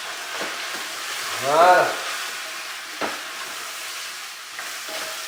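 Artichokes for barigoule sizzling and frying in a pan with garlic once the lid comes off, a steady bright crackle running throughout with faint stirring clatter and one short spoken word over it.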